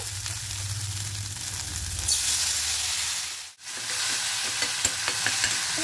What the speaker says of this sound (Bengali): খুব ভালো করে কিন্তু নাড়াচাড়া করে ভেজে নিয়েছি।